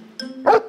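Dog barking in a children's bedtime story, a single short, sharp bark after a brief whining tone, close and clear, with no voices.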